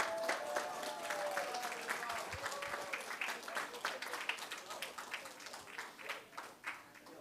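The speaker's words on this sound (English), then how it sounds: "a round of applause for your champions of fall 2022" Steady applause from an esports championship audience, dense clapping that carries through the whole stretch, with an announcer's voice audible over it at the start.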